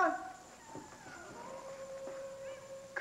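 A wild dog howls at a distance in a quiet outdoor night setting, one long wavering call that holds steady with faint yips at the start and end.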